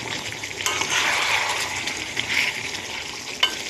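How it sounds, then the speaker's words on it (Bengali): Whole green chillies hit a pan of frying meat being cooked down for a spicy dish, setting off a steady close sizzle with stirring scrapes and a brief utensil clink. "যারা ঝাল বেশি খায় তাদের জন্য আমি গোটা লঙ্কা দিয়ে দিলাম"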